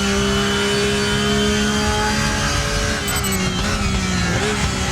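A GT3 race car engine in RaceRoom holds a steady, loud, buzzing drone near the listener, dipping slightly in pitch at one point as the throttle eases, then picking back up.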